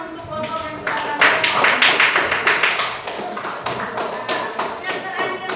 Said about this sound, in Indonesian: kasih tepuk tangan untuk kelompok yang sudah kami.